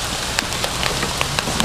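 Steady rain falls throughout, a dense broadband hiss with scattered drop ticks and spatters, close and continuous with no voices.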